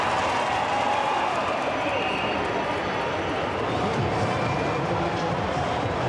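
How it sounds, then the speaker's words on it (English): A large crowd cheers and applauds Mitch Evans' win at the 2020 Mexico City Formula E race, a broad continuous roar with no break throughout. "Listen to that crowd. Fantastic."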